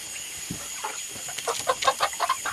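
Hens cluck close by during a move, where the birds are being picked out. The clucks come as short, repeated bursts that grow busier toward the end, with no talk over them.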